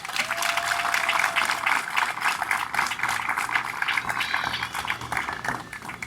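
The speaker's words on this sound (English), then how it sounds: "I believe he deserves a round of applause" Audience applause for Inspector Thompson at a ceremony, a dense, steady round of clapping from a sizable crowd that holds strong for the full six seconds before easing slightly at the end.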